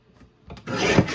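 A sheet of gold paper being trimmed, giving a brief dry scraping rasp that starts faint and turns into a close, steady rough rub for under a second, with no talking.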